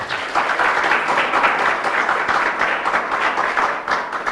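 An audience at an ashram spiritual discourse breaks into sustained applause, a full, bright wash of many hands clapping with no pause.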